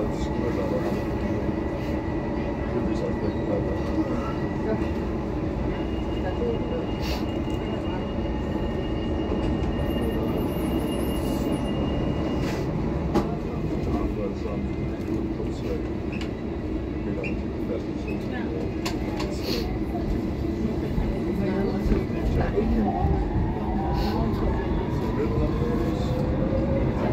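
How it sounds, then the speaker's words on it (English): A Copenhagen Metro Line M1 train runs along the track with a continuous rumble and hum heard from on board, occasional faint clicks and wheel whine, and voices speaking over the ride. "This train terminates."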